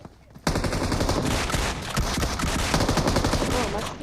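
Dense automatic gunfire from a PUBG Mobile match erupts after a brief quiet start and continues as sustained, loud bursts of rapid shots.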